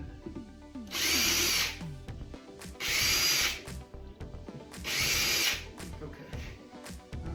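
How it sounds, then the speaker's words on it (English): A power drill bores into wood while a sturdy bench is built, three long loud whirring bursts separated by short pauses filled with quieter handling clatter. "then I go back and drill through it"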